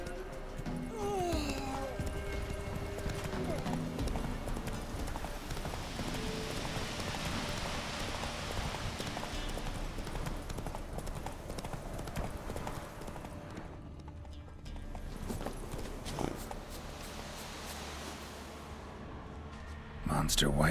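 Roach the horse galloping in The Witcher 3, a steady stream of hoofbeats over ground, close and fairly loud, with a voice speaking briefly.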